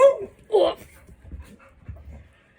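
A dog gives a couple of short, high whimpers near the start, followed by soft, low panting and breathy snuffles that fade in and out, close by and fairly quiet, with no talk over it.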